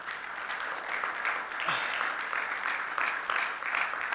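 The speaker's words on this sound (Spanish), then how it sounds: "¿Puedes darle un fuerte aplauso al Señor?" A church congregation applauds steadily during a Spanish-language worship service, with dense, sustained clapping throughout that sounds fairly close and even.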